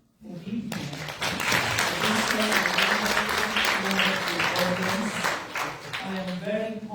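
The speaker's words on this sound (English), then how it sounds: "please clap for yourself for being here" A conference audience applauds at a keynote address, a dense, sustained round of clapping that fills the room, with a voice speaking over it near the end.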